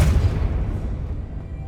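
Casting the Confringo fire spell in Hogwarts Legacy sets off a heavy, booming explosion that hits hard at the start and then rumbles away over a second and a half.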